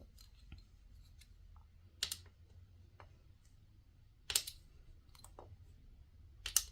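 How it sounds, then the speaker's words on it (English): A blade slices through a polymer clay cane, producing a few soft, sharp clicking cuts spaced a couple of seconds apart, close but faint over a quiet background. "So we are just going to cut it right here."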